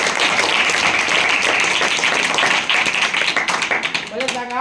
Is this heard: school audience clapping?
yes